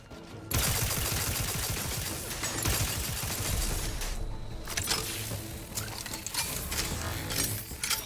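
Turret gunfire in The Outer Worlds 2, a dense, rapid clatter of shots and mechanical rattling that runs steadily through the scene at a moderate distance, with no talking over it.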